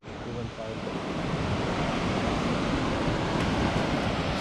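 Jog Falls in Karnataka, running low on water, gives a continuous broadband roar seen from a viewpoint, steady and loud throughout, mixed with wind buffeting the microphone.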